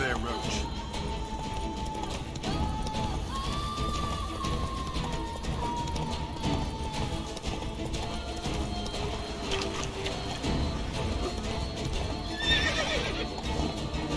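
Roach the horse in The Witcher 3 whinnies and neighs while hooves clip-clop in a gallop, layered with game music and ambience, as someone talks over it.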